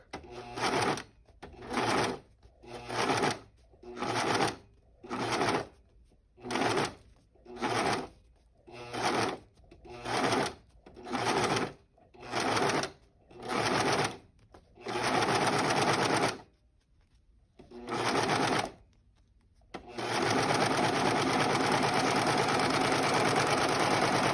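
A serger sewing machine stitches around a fabric circle in about a dozen short, loud whirring bursts with brief pauses between them, ending in a longer continuous run after a short gap.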